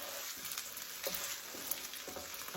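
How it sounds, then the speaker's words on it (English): Cream corn stirred in a hot pan, a soft, close sizzle with a few scraping sweeps of the spoon, faint and brief, with no talking. "We're going to give it a stir."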